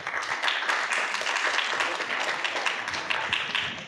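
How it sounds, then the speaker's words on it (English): Audience applause at a campus faculty discussion on the residential experience, a steady broadband patter of many hands sustained for about four seconds at moderate level. "So let's do the old applause thing."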